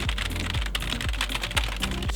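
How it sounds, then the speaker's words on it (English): Rapid typing on a Logitech G213 Prodigy RGB gaming keyboard, a dense stream of quick key clicks and thumps at a steady fast pace, close and clear without talk. "what I'm going to do is just type over a load of stuff quickly"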